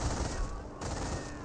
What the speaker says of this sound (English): M2 firing away.